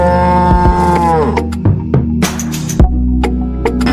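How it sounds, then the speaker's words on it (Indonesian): A sacrificial cow moos loudly and close by, one long drawn-out low call, followed by scattered thumps and clatter, with no talking. "Wow, ada hewan sapi kurban."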